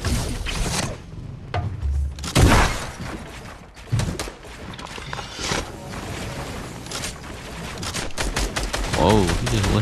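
Gunfire rattles through a video game match: bursts of rapid shots and single cracks come in uneven clusters, with mechanical clicks and clatter between them.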